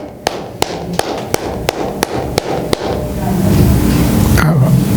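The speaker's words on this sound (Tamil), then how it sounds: "கை தட்டுங்க அப்படியே." Congregation at a Sunday church service claps hands, about eight sharp, evenly spaced claps ringing out clearly before fading into a murmuring room background.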